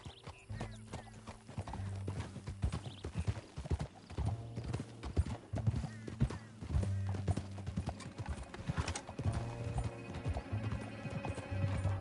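Horse hooves clip-clop in a steady galloping rhythm over a continuous low rumble, with a faint whinny and no speech over it, in the video game Red Dead Redemption 2.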